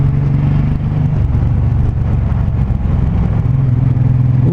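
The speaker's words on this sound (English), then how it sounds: "A little sputtering." A 2019 Suzuki M109R motorcycle engine rumbles loudly and continuously on a narrow road, with uneven dips and surges that suggest popping and sputtering as the throttle changes, heard up close.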